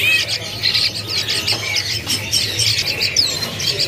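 Many caged songbirds chirp, tweet and squawk at a kiosk in Jakarta's Pramuka bird market, a busy overlapping chorus of close, bright calls with no talking.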